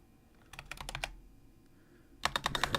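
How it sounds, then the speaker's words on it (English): Typing on a computer keyboard comes in two quick bursts of crisp key clicks, close and fairly quiet, separated by a short pause. "I'm typing your name into the symbol."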